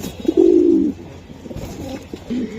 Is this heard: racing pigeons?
yes